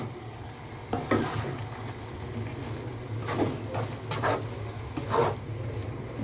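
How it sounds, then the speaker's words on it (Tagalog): Turnip cake frying in a pan, a quiet steady sizzle broken by a few brief scraping and stirring noises, with no talking. "Luto po tayo ng turnip cake."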